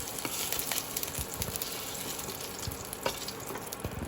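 Potatoes frying in oil in a pan, a close, continuous crackling sizzle with scattered pops and occasional stirring scrapes.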